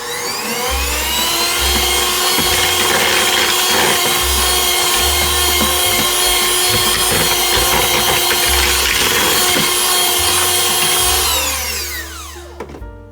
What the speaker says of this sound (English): I'm going to add some vanilla. And we're going to mix that in.